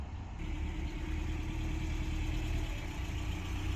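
A classic Ford Thunderbird with opera windows idles at low revs during a Saturday morning cruise past a motel, its steady engine rumble continuous and fairly close with no voices.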